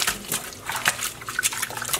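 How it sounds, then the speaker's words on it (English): Dyed yarn, colored with acid dye powder, is swished and rinsed in water, giving a close series of uneven splashes and sloshes over two seconds, with no talk. "Give it a nice, good rinse."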